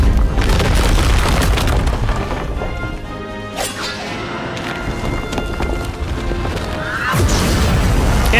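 A spell explodes in a Wizard101 duel, a loud rumbling boom with a crashing burst that swells, fades through the middle and erupts again near the end, sounding like a thunderstorm with no talking over it.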